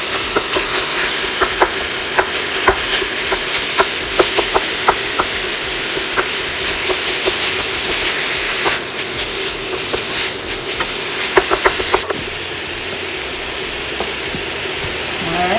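Ground beef browns in a hot pan for a shepherd's pie, giving a steady close sizzle and hiss with scattered crackling pops and occasional stirring scrapes throughout.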